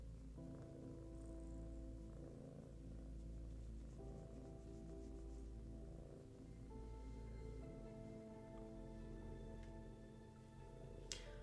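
A house cat purrs softly and steadily up close, a low continuous rumble with faint background hum and a small click near the end.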